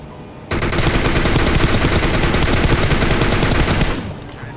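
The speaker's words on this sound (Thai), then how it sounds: "มันโดนคนอื่นยิง" Sustained automatic gunfire from PUBG Mobile, a dense, loud burst of rapid shots lasting several seconds, starting abruptly and then tapering off, with no talk over it.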